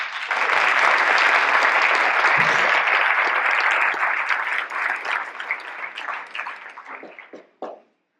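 An audience of cadets at a closing ceremony breaks into sustained, dense applause that holds strong for several seconds, then thins into scattered claps and stops abruptly.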